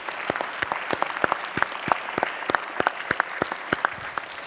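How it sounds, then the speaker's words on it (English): An audience at a leadership summit applauds the panelists, a modest scattering of distinct claps at an even pace, fairly close and uninterrupted by talk. "Can we give a round of applause for everybody that's spoken?"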